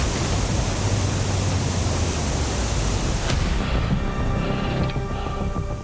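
A waterfall in the Abujhmad forest rushes and splashes as a loud, continuous broadband roar, easing slightly near the end as faint tonal sounds come in.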